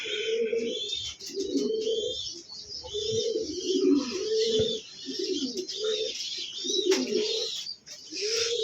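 Pigeons, including white crested birds kept for sale, coo in repeated soft throaty phrases close by, with occasional chirps from other birds in the background.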